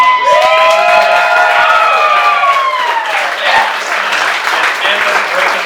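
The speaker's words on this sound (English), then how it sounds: "I want a round of applause for the moms." Loud applause and cheering from wedding guests for the mothers of the couple, clapping mixed with whoops and excited shouts, sustained throughout with voices rising over it.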